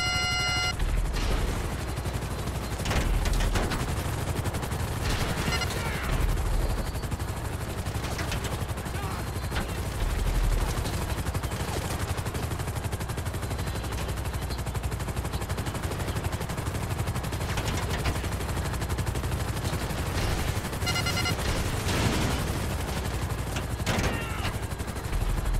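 Sustained police gunfire in Grand Theft Auto V, dense bursts of automatic shots and scattered single reports running continuously over a steady, loud game soundscape.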